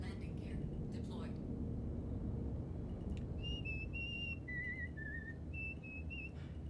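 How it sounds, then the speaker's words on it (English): A person whistles a song melody in short sustained phrases over a steady rumbling background of spacecraft game ambience. "When I whistle that song"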